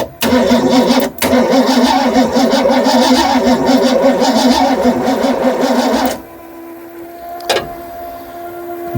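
A Ford F250 Bullnose truck that has sat for 24 years cranks over with a loud, rhythmic starter churn for about six seconds without catching, then stops, leaving near quiet with a brief clunk.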